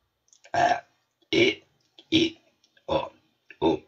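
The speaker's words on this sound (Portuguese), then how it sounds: "Caraca, não para de arrotar, meu!" Five loud, close burps in a row, each a short throaty belch separated by brief pauses, with no talking over them.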